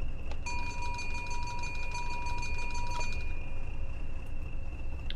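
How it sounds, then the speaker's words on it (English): A fire alarm test tone inside a BR Class 20 diesel locomotive cab in Train Sim World sounds as a steady, piercing electronic tone held over a constant engine rumble for several seconds. "So the last thing is the fire alarm test."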